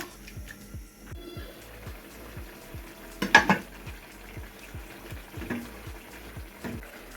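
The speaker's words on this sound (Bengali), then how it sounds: "লাল শাক রান্না করতেছি" Red amaranth greens cooking in a pan, with a faint sizzle, repeated soft stirring and scraping strokes, and a sharper clatter of utensil against pan partway through.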